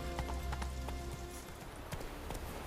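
Horse hooves galloping at a steady clip-clop rhythm in The Witcher 3: Wild Hunt, close and continuous over a low game ambience, with no talk.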